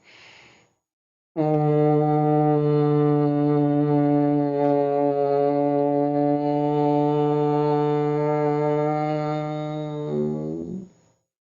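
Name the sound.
humming breath imitating a bumblebee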